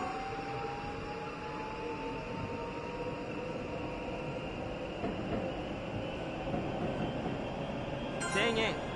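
In the video game Densha de GO!, a Yamanote Line electric train in Tokyo hums steadily along the rails with a continuous motor whine, and a brief high chime sounds near the end.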